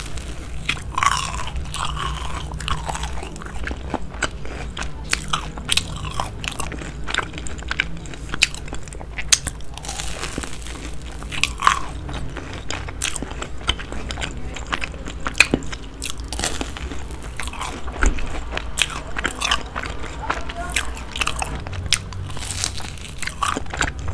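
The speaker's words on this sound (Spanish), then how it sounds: "mientras me como estos ricos buñuelitos" Crunchy fried dough fritters (buñuelos) bitten and chewed close to the microphone in a steady stream of crisp, crackling crunches, with no voice alongside.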